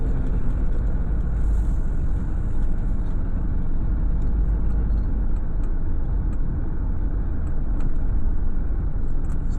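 A car drives through residential streets in Sulphur Springs, Tampa, with a steady low engine and road rumble from inside the cabin and occasional faint ticks, no talking.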